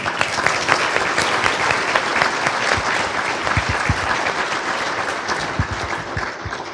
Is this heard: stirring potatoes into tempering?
no